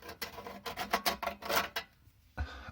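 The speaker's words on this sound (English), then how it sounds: "if I just mark on here with a pencil" Pencil marking a panel while fitting a second consumer unit: a run of quick, close rasping scratches in irregular strokes, followed by a short pause and a soft knock.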